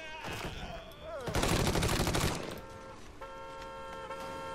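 Gunfire in the video game Mafia 3, a dense burst of rapid shots in the middle, with music and other game sounds before and after it.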